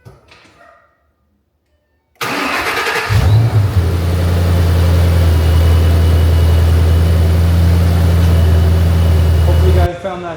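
A Shelby's engine cranks and catches after a short quiet pause, then settles into a loud, steady, low idle that drones on without a break.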